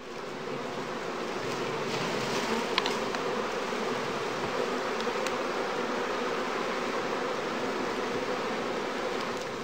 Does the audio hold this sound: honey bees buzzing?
yes